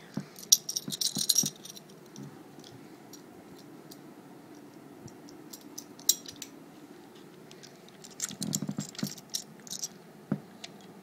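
Small metal Allen keys rattle and clink in scattered bursts while a JG G36c airsoft rifle is being taken apart, with quiet gaps between the close handling noises.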